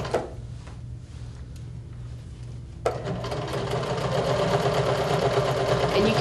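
A sewing machine stitches denim fitted with a denim needle: a quiet, sparse start with a few light clicks, then a loud, steady mechanical whir that runs continuously to the end.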